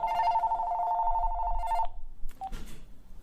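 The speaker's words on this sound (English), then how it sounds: "the phone rang" A telephone rings in a New York apartment, one steady electronic trill lasting close to two seconds before cutting off, followed by a short faint chirp and quiet room noise.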